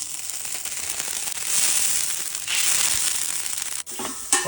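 Hand-torn, squeezed monkey head mushrooms dropped into a hot pan of chicken fried with ginger, setting off a loud, steady sizzle and crackle that swells and holds for several seconds, with a brief dip near the end.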